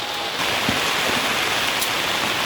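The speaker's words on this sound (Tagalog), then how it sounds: "Kahit malakas ang ulan, tuloy pa rin ang pakluluto." Heavy rain pours down in a dense, steady hiss, close and loud, with no pauses.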